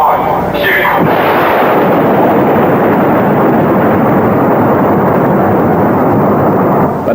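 The USS Iowa battleship fires a broadside from its big guns at sea, a huge booming blast that sets off a long, loud roaring rumble that fills the whole stretch.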